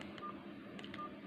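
A tiny dual-SIM mini mobile phone gives off a short run of faint keypad dialing beeps, a few spaced tones over a steady background hiss.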